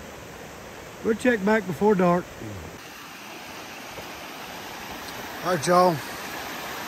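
Small waterfall of floodwater rushing steadily and close by, a constant broadband wash that runs under two short bursts of a man's speech and continues alone between them.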